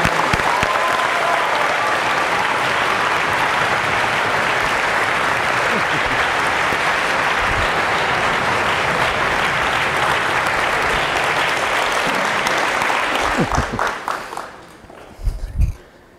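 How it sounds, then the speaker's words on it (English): A school audience claps loudly and steadily for about fourteen seconds, a dense wash of hands that thins out and stops, leaving a few scattered claps and footsteps at the end. "Let's give him a huge round of applause."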